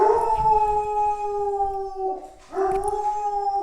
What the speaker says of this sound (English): That's my dog, and that's a delivery.